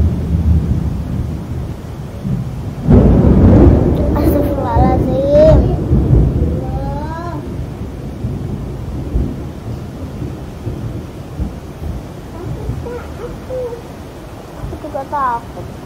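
A very loud thunderclap bursts out during a windy rainstorm, then rumbles and fades under steady rain, with children talking before and after.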